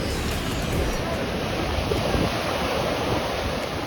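Ocean waves break and wash continuously onto a beach at Puerto Plata, with a steady loud roar of surf mixed with wind noise on the microphone.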